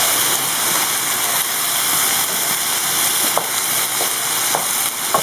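Moroccan purslane salad cooks in a pan over medium heat, giving a steady, close, even sizzle and hiss with a few faint pops and no talking.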